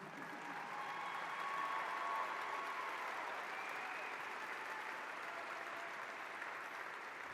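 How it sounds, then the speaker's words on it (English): Audience applause fills a large arena at a university medical school commencement ceremony, a steady, dense wash of clapping from a big crowd that holds at an even loudness throughout. "It's okay to clap."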